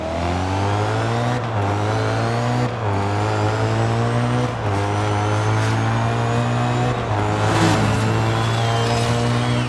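A BMW M3 GTR engine in Forza Horizon 5 revs hard and climbs through the gears, its rising drone breaking at several upshifts in a loud, continuous run.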